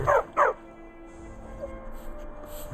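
Two sharp dog barks from a guard dog in Skyrim, set in the Reach, come close together at the start, followed by a low game ambience with a faint tonal hum.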